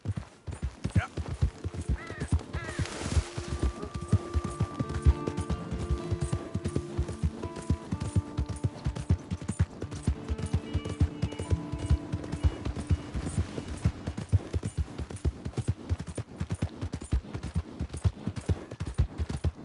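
Horse hooves galloping in the open-world video game Red Dead Redemption 2, a fast, steady rhythm of close, thudding footfalls with occasional snorts and whinnies and a faint wind bed, continuing for about twenty seconds.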